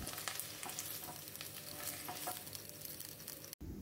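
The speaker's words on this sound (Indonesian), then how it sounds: "digongsreng-gongsreng supaya matang merata dan tidak gosong." Scrambled eggs stir-fried in a pan sizzle steadily and loudly, with scraping stirs of a utensil repeating throughout before an abrupt cut near the end.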